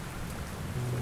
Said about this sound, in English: the rain started pouring down